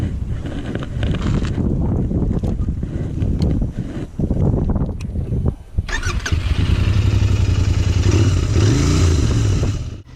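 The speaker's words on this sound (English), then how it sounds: "This is my Interceptor 650. Let's hop on and see where the road takes us." Royal Enfield Interceptor 650 motorcycle on the road, its engine pulsing and revving under buffeting wind noise, growing louder and steadier in the second half as the ride gets underway.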